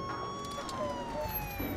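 An ambulance siren in a documentary reenactment wails with a steady, slowly falling tone, loud and close, over rumbling street noise.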